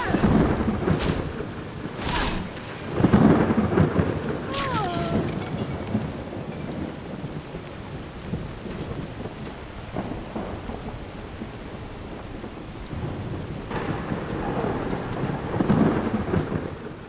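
Steady rain pours in a Skyrim storm while rolls of thunder rumble repeatedly, several heavy booms rising and fading over the continuous hiss of rainfall, with no voices.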